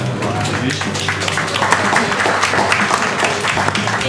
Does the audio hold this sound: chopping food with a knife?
no